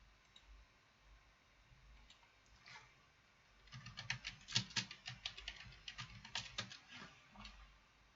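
Faint key clicks at first, then a quick, uneven flurry of keystrokes tapping on a computer keyboard, fairly quiet and close.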